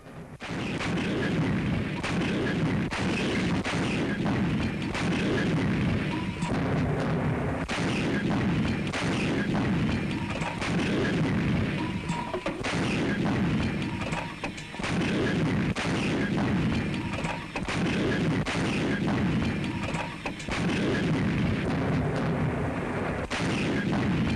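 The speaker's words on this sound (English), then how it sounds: "watching the guns in action, they saw at least one shot down" Anti-aircraft guns fire at incoming doodlebug flying bombs in a dense, continuous barrage of loud booming shots that overlap and roll on without pause.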